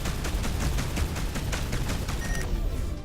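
Rapid, evenly spaced spaceship weapon shots firing in the Between The Stars space game, loud and continuous for about two and a half seconds before tapering off.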